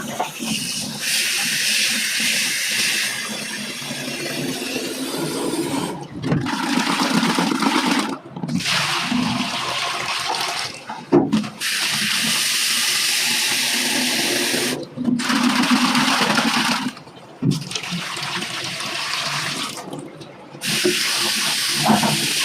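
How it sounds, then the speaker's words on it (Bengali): Filter parts from a Pureit water purifier being rinsed under running water, a steady loud gushing and hissing stream that breaks off briefly several times before resuming. "এবার আমরা এটি খুব সুন্দরভাবে ধুয়ে নেব"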